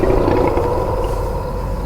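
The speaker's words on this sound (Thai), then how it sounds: "เสียงคำรามเหมือนหมีหรือว่าเสือโคร่ง" A bear or tiger roar in The Quarry video game, a low, loud, rumbling growl sustained for about two seconds over dense, muffled background sound.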